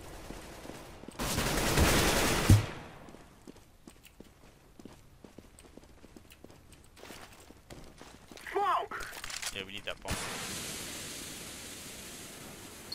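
Gunfire in CS:GO on the Cobblestone map: a loud burst of shots early on, then scattered sharp reports and footsteps, with players talking over the action.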